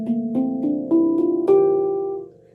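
Seven handpan notes struck one after another in a rising scale at an even pace, each a warm ringing metallic tone that overlaps the last, with the final note left to sustain and fade.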